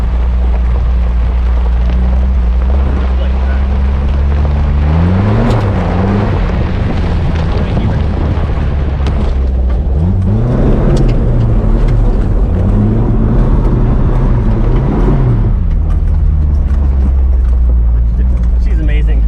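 A Nissan Hardbody work truck drives and slides around, its engine droning loudly up close and revving in repeated rising surges, with someone talking excitedly over the engine noise.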